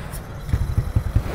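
A stock Yamaha NMAX scooter engine, upgraded to 200cc with a GR block, idles quietly after reassembly into the chassis, giving a low, steady putter with soft rhythmic pulses close by.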